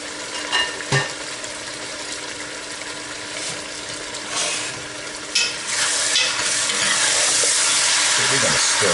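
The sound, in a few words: stirring curried chicken and potatoes frying in oil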